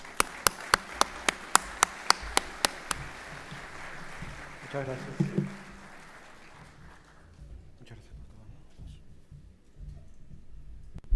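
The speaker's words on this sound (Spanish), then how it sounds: "le damos un aplauso de bienvenida" Welcoming applause for a speaker at an agricultural conference on sustainable crop intensification: a wash of clapping with sharp, evenly spaced nearby claps that fades within a few seconds, then someone briefly speaks.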